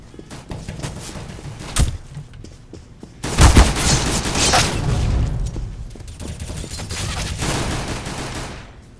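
Video game gunfire, a brief burst of shots followed by a loud rolling fusillade of rapid shots and booms that fades out toward the end, with no talking.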